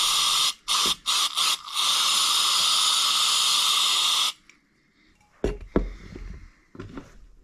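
Brake cleaner sprays from an aerosol can onto Vespa PX carburetor jets, a loud sharp hiss in a few short bursts and then one long continuous blast, followed by quieter clicks and handling noises.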